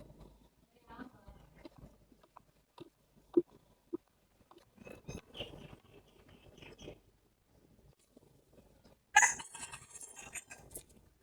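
Chickens crow and cluck around a home kitchen, mixed in with steady talking, with one loud, harsh crowing burst standing out near the end.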